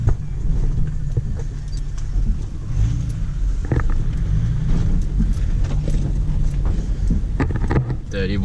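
Car rolling down a long rural driveway toward a hideout in a video game, a loud continuous engine drone mixed with rough rumbling and wind-like noise throughout.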